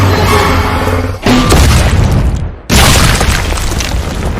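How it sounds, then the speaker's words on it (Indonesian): A loud shotgun blast from Sheriff Riley in the crocodile film Lake Placid: dense, booming bursts with abrupt cuts and one brief near-silent gap, filling the whole stretch without speech. "Sheriff Riley datang menyelamatkan dengan tembakan shotgun, menghancurkan salah satu moncong si buaya"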